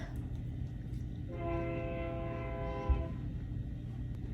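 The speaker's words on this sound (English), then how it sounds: "Train. I'll wait." A train passes with a long, steady horn blast sounding for about two seconds over a continuous low rail rumble, alone with no talking.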